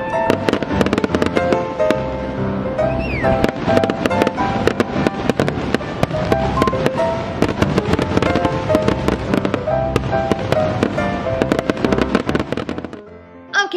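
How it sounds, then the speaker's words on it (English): Rapid bursts of Fourth of July fireworks crackle and pop nonstop, dense and loud, with a steady tonal layer running underneath before a sudden stop. "Every year on the 4th of July, me and my family love to go see all the awesome fireworks."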